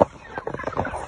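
Soft, scattered clucking from about 58 broiler chickens in a 10-by-12-foot Salatin-style shelter, a busy low murmur of several birds at once.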